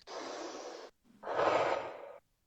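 Two deep, breathy exhalations from a child-calming breathing exercise, the first a steady airy rush and the second louder and fuller after a brief pause, close up with no talking.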